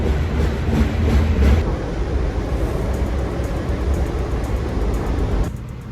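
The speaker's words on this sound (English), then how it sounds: "on the train to New York" Continuous rumble and rattle of a moving Amtrak passenger train to New York from inside, steady low-frequency drone with faint high whine, easing slightly near the end.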